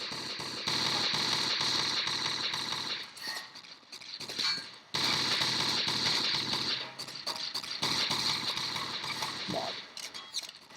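Dense, continuous gunfire from the Marathon: Squadron video game crackles in long rapid bursts with brief pauses, loud and harsh, with a short break midway before the shooting resumes.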